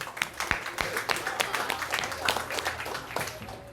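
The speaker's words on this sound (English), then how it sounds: "A round of applause." A small audience claps in scattered, uneven bursts after a memory demonstration, moderately close, with some voices underneath.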